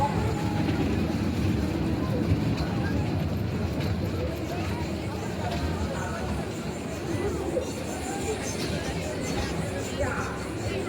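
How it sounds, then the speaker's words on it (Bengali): A toy train runs at a village fair, its continuous low rumble and rattle going on under crowd chatter and people talking nearby. "দেখুন কি সুন্দর একটি টয় ট্রেন"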